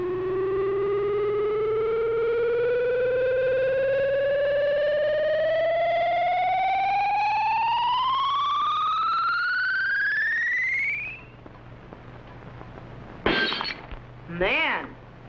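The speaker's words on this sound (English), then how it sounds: "whatever the beam hits will be instantly shattered by the ultrasonic sound wave vibrations" A science-fiction ultrasonic ray whines as a long rising electronic tone, steadily climbing in pitch for about eleven seconds, then cuts off, followed by two short bright bursts of breaking glass as a glass jug shatters in a testing chamber.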